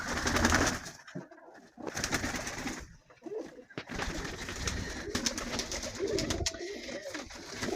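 Pigeons coo repeatedly in a low, throaty murmur, with other bird calls mixed in and steady background noise throughout.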